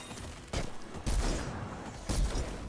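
Gunfire in the Fortnite video game during a Creative deathrun map: three sharp shots at irregular spacing, each with a short, rumbling tail, over a steady low game background.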